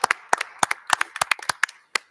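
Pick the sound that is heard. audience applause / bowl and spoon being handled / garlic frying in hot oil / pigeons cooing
audience applause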